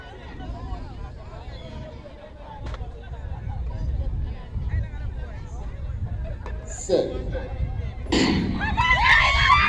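Fans cheer and call out from a crowd at a girls' under-18 race. The hubbub grows steadily louder, with sharper shouts bursting out near the end.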